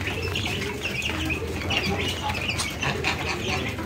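Duck and chicks crowding around poultry feed: soft, continuous chirping and peeping from many birds, close and busy, over a steady background din.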